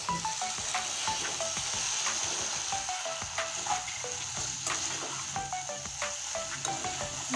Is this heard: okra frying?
yes